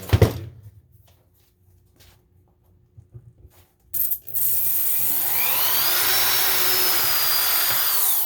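A power drill whirs steadily at high speed for several seconds after a few short clicks and taps, close and loud, with no talking, drilling a hole in a chromatic harmonica slider.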